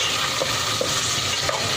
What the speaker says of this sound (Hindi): अब हमने जो गोश्त बॉईल करा था वो ऐड करेंगे इसके अंदर, ऐसे भून लेंगे अच्छी तरीके से।